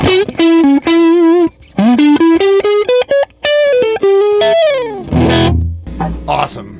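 An electric guitar plays through the normal channel of a Tweed Deluxe 5e3 Dumble-clone amp: a run of distinct picked notes climbing in steps, with a gritty driven edge, ending in a loose strum and a brief spoken word.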